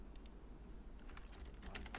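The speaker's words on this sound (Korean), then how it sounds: "여기 키보드로 메모장 쳐보세요" Fingers tap on a computer keyboard in quick irregular clusters of crisp clicks, fairly close, over a low background hum with no talking.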